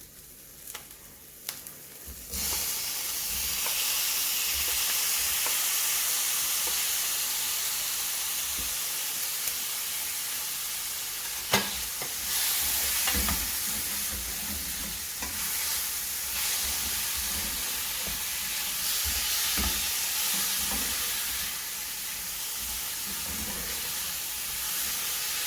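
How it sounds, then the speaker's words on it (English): Onions, chili and garlic frying with tomatoes in a pan make a steady, close hissing sizzle that runs throughout, with occasional clinks and stirring noises. "I'm going to add in our tomatoes just to deglaze the pan"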